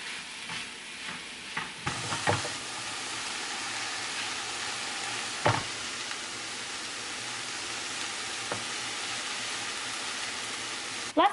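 Diced peppers and bok choy stir-fry with ground turkey in a loud, steady sizzle, punctuated by occasional sharp clacks and scrapes of a utensil stirring the pan.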